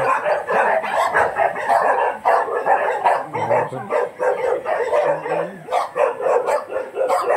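Several dogs bark repeatedly and close by on a farm resort, sharp overlapping barks coming in irregular bursts over a busy, noisy background.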